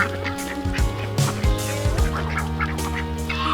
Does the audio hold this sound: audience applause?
no